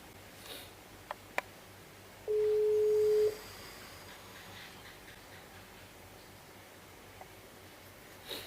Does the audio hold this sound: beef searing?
no